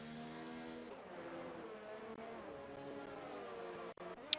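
Race cars in the F1 2019 video game drone along behind the safety car, a steady layered engine whine shifting in pitch, followed by a couple of sharp clicks near the end.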